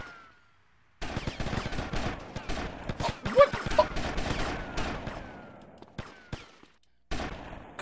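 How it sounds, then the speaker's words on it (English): Gunfire in GTA Vice City: a sustained rapid barrage of loud, close shots in bursts, with brief pauses and a final burst after a short gap. "Who's shooting now?"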